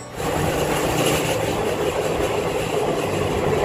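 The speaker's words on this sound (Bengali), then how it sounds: "আমাদের ট্রেন দুর্বার গতিতে তার গন্তব্যের দিকে এগিয়ে চলেছে" Paharia Express passenger train from Howrah to Digha running at speed, a steady loud broadband rumble and rattle of wheels and carriages with no pauses.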